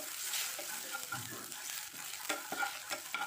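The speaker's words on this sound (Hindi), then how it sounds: "अभी ये जब भून गया तो इसमें हम थोड़ा सा अदरक डालेंगे" Grated ginger with garlic frying in a pan for palak paneer, a quiet steady sizzle with a few spatula scrapes and light knocks toward the end, close and soft.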